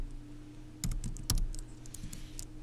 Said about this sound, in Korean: 미음 한자 버튼 눌렀고